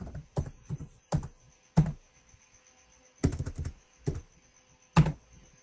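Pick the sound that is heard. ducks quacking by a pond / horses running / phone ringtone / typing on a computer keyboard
typing on a computer keyboard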